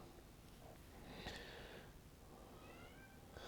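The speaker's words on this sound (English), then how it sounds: "Oh, my poor cat is crying." A pet cat cries with a faint, drawn-out meow indoors, set low under a steady broadband hiss, with a second thin meow toward the end.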